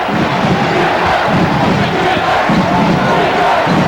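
A packed Marquette arena crowd roars for its Golden Eagles against the Bradley Braves at a 1985 college basketball game, a loud, unbroken wall of cheering and yelling with no pauses.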